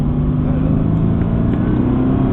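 A Mercedes AMG GTS with 510 hp drives on a race track, its engine a loud, steady, close droning rumble that holds even throughout, with no one talking.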